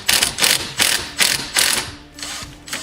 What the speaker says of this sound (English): Grab your impact driver and loosen up the steering wheel nut.